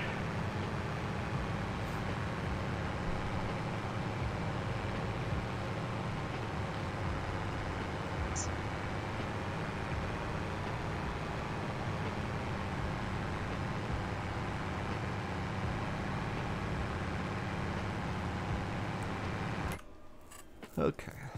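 Farm vehicle in Farming Simulator 22 drives along at a steady engine drone, a constant low rumble held for about twenty seconds before cutting out near the end.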